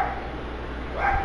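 A pet dog barks for attention, a single short loud bark close by with nothing else around it.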